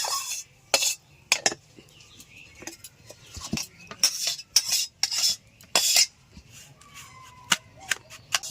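A spoon scrapes and clinks in a pan as semolina is fried and Amul milk is stirred in, with sharp repeated metallic strokes in an uneven rhythm. Close by and fairly loud, with no voices.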